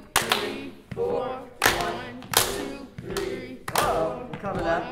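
Hands clapping in time during a school music lesson, several sharp claps spaced about a second apart with voices speaking between them.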